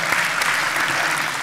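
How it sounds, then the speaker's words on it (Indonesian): A university audience at a business talk on beneficial ownership claps for a student who asked a question, a brief steady wash of dense applause throughout. "tepuk tangan dulu dong buat keberanian Mbaknya"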